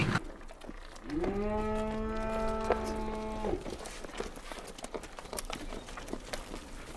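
A newborn goat, one of triplets born the night before on a farm, gives a single drawn-out bleat of about two and a half seconds, close and clear, amid quiet rustling.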